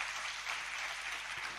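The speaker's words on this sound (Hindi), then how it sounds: "ये क्यों दिखाने के लिए आप तालियां बजाते हो?" Audience clapping during a sermon, a short, even patter of applause, faint and steady with no talk over it.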